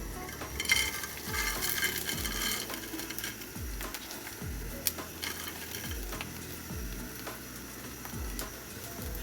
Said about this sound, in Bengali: অল্প তেলে ভাজতে হবে।